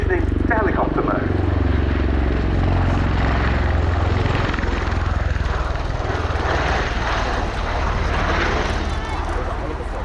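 A Boeing CV-22B Osprey tiltrotor of the US Air Force slows and converts to helicopter mode during an airshow display at RIAT 2023, its loud, steady rotor and engine roar continuing throughout with a heavy low throb.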